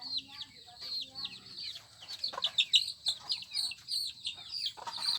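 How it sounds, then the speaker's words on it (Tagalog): Chickens cluck and chatter in a busy overlapping stream, with higher chirping calls mixed in, fairly close and steady throughout. "Mga alaga kong manok. Yan, meron din akong native na manok."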